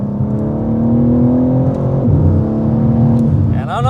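A BMW M car's engine pulls hard and close, its tone holding steady under acceleration, then dipping briefly at a quick gear shift before climbing again.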